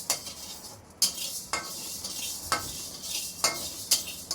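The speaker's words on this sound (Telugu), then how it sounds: "మినప్పప్పు ఫ్రై చేసుకోవాలండి." Urad dal fries in hot oil in a pan while a spoon stirs it, a soft constant sizzle broken by about eight sharp scraping strokes against the metal at a roughly steady pace, close and without talk.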